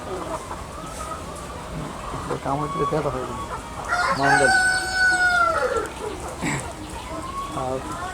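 Hens cluck repeatedly while a rooster crows loudly in the middle, with voices talking underneath the poultry noise.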